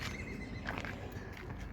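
A young Kyrgyz horse for sale gives a short, close whinny over a steady outdoor background.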